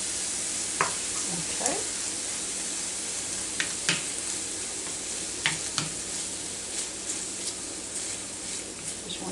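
BBQ beef mixture sizzling in a pan on a stove while being stirred, a steady close sizzle with repeated scrapes and clicks of the utensil, and a voice speaking briefly.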